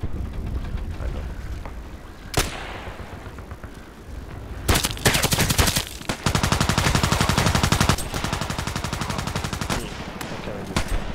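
Bursts of automatic rifle fire and single shots in the online shooter Contract Wars, loud and close, with sustained rapid volleys in the second half and sharp isolated cracks, over a background of game noise.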